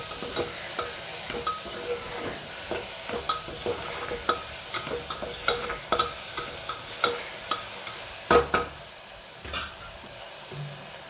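Salted food with chilli powder and turmeric frying in a pan, stirred with a spoon that taps and scrapes in a regular rhythm over a continuous soft sizzle, close and clear.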